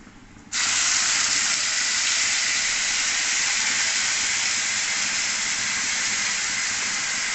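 Dried red chilli, salt, turmeric and garlic hit hot oil for a potato and pointed gourd curry, bursting into a loud, steady sizzle after a short quiet moment and hissing continuously without a break.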